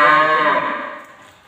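A single loud, close moo from a bull that stands 1.12 m tall and is being shown for sale, drawn out and slowly fading away.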